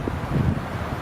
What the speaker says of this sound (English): Today's a bit windy.